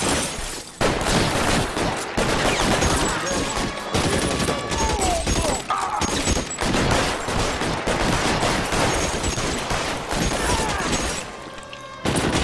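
Loud, sustained Tommy gun fire in the video game L.A. Noire, long rattling bursts of automatic shots close up with brief pauses, ending in a short quieter gap.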